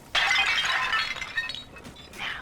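A porcelain tea service in the style of Louis XV shatters in BioShock 2, a sudden bright crash of breaking china followed by tinkling fragments scattering and settling, with a smaller clatter near the end.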